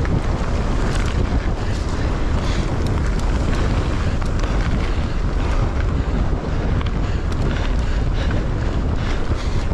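Headwind roars across the microphone during an uphill mountain bike ride at a bike park, a loud, constant broadband rush of wind buffeting that lasts throughout, with no talk.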